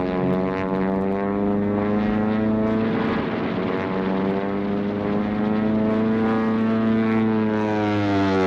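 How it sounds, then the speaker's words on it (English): American WWII propeller fighter planes scrambled to intercept Japanese carrier-based aircraft: a loud, steady piston-engine drone with a strong tonal hum that holds without a break. "Every available American fighter was scrambled into the air to intercept successive waves of Japanese carrier-based planes."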